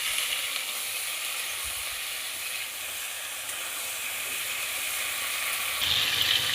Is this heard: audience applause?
no